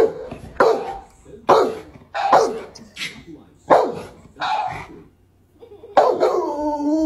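A dog barks repeatedly in sharp, close bursts with short pauses between, some barks stretching into yelping, whining howls.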